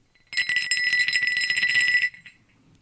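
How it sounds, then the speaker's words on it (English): A complete ringing crotal bell, found while metal detecting, is shaken for about two seconds: a bright, close, rapid jingling rattle heard alone. "I myself have been lucky enough to find one complete ringing crotal bell, so just for you, here it is."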